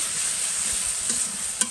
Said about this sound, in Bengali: তারপরে এটাকে একটু ভাজা ভাজা করে নেব